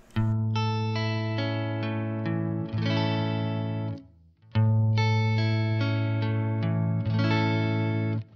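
Clean electric guitar tone through an oil can delay pedal plays sustained chords in two phrases separated by a short gap, each strum ringing out clearly with a smooth, even tone.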